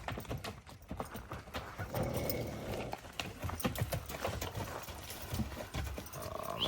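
Horse hooves clip-clopping on the ground, a steady uneven beat of close footfalls from a horse led out for show and sale, with faint voices and a brief whinny-like sound in the background.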